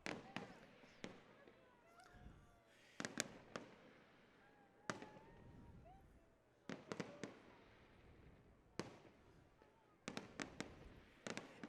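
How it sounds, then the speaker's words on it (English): Fireworks bursting over Friday Harbor in repeated sharp bangs, some single and some in quick clusters, heard from a distance with crowd chatter and speech underneath between the blasts. "We have the fireworks."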